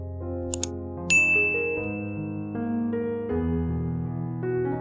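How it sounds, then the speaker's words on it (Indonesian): A phone alarm rings on a bedside table before dawn, a bright ding followed by a looping chime melody of clear sustained tones, loud and close, with nothing else heard. "Alarm jam HP berbunyi nyaring di atas meja samping tempat tidur"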